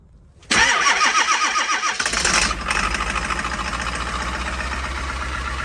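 An engine cranks briefly, catches with a loud burst, and then settles into a steady, rumbling idle nearby.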